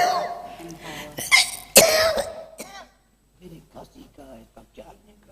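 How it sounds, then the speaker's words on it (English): A few harsh coughs burst out up close, followed by a pause and then quiet speech. "So don't be concerned about my cough."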